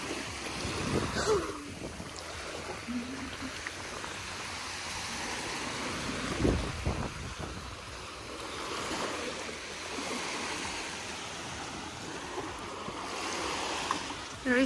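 Sea waves wash at Kalamaki Beach on Zakynthos in a steady broadband rush, with surges swelling and fading over about fifteen seconds and faint voices in the background.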